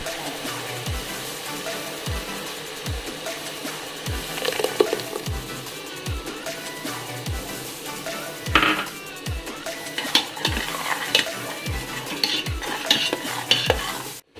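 Onion and tomato paste sautéing in a pan for a mutton curry, with a soft sizzle under regular spatula strokes scraping the pan roughly every second and a few sharper metallic clinks later on.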